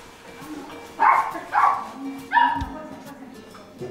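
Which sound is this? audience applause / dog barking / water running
dog barking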